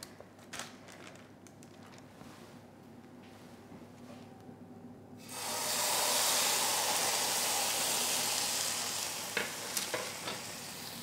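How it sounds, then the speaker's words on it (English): Quiet crackle at first, then a loud, steady sizzle of prosciutto-wrapped beef hitting a hot oven tray that holds for several seconds before easing slightly. "Great sizzle."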